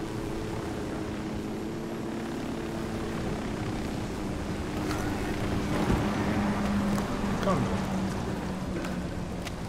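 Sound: helicopter arriving in Ghost Recon Wildlands video game

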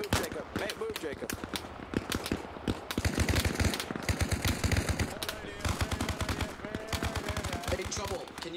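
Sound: gunfire in the video game Arma Reforger

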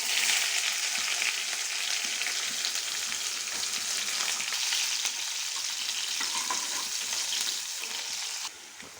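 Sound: onions frying in a pan with garlic

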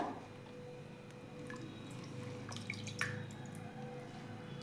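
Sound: washing chopped sorrel leaves in water

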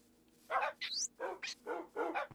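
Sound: dogs barking in video game Minecraft

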